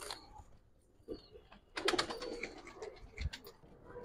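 Giribaj pigeons, a silver-feathered pair with black wings at an Old Dhaka pigeon market, coo in soft low bursts, with brief fluttering and scattered sharper noises in the middle; no one speaks.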